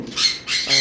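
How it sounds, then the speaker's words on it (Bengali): Lovebirds give three sharp, harsh squawks in quick succession, close and loud with short gaps between them. "ভিডিওটা হবে লাভ বার্ড পাখির উপরে"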